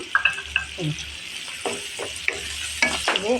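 Sliced green chilies and spices fry in oil for a pointed gourd curry, with a close sizzle broken by repeated scraping strokes of a spatula stirring in the pan.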